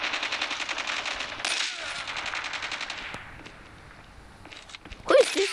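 Automatic gunfire in Call of Duty multiplayer: a fast, close rattle of shots for about three seconds, then quieter clicks, light movement and a sharp metallic clatter near the end.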